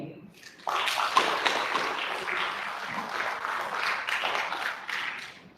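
Audience applause at a research foundation launch and fundraiser in Nigeria, greeting a 10 million naira donation; dense, steady clapping from a hall crowd, fairly loud and sustained for several seconds.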